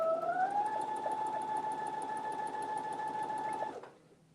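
A sewing machine motor runs steadily at high speed with a sustained whine, close and loud, then cuts off abruptly near the end with the presser foot raised.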